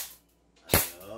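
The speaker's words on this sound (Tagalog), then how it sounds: "Ikaw, sige, barilin mo yung baril." An airsoft gun fires a single sharp, loud shot close by, followed by a short fading tail over quiet room background.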